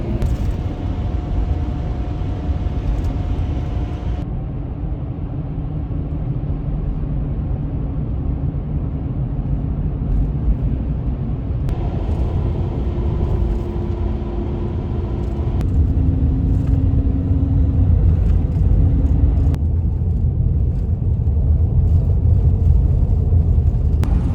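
A truck driving on a road on the way to a Colorado high-country hunt: a steady, loud interior engine and road rumble that shifts in tone a few times over the drive, with no talking.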